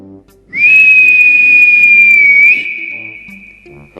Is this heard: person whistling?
yes